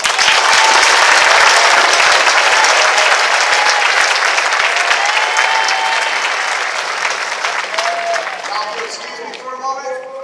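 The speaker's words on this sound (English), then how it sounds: "please join me in giving them a round of applause" A crowd at a Marine Corps graduation applauds drill instructors, loud sustained clapping that slowly thins out as a voice begins speaking near the end.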